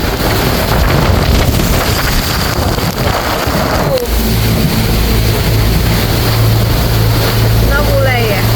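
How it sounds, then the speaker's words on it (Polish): Strong squall wind on a sailboat in the open Atlantic during a thunderstorm, a loud continuous roar buffeting the microphone, joined by a low engine-like drone partway through and a brief voice near the end. "Squall następna idzie, wiatr mocny."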